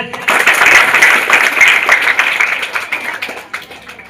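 A group of children at a government primary school claps together in a steady burst of applause, loud at first and gradually tapering off.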